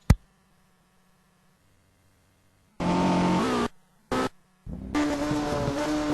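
A race car on its warm-up lap at Watkins Glen gives short, loud engine bursts after near-silence. A brief burst comes first, then roaring passages broken by abrupt cutoffs, close and with no talk.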